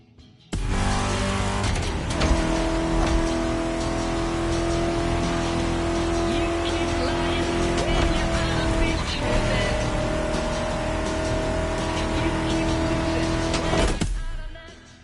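Vintage cars driven in the game Vintage Garage: a sustained engine drone with steady tonal hum and occasional rises in revs, loud and close, running continuously before cutting off near the end.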